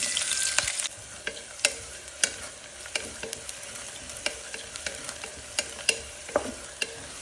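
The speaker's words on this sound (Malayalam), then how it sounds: "നമ്മൾ സവാളയും ഇട്ട് വഴറ്റിയെടുക്കുവേ" Onions sauté in a pan for Kerala biryani, a spoon clacking and scraping at a steady rhythm against the pan over a quiet, continuous sizzle.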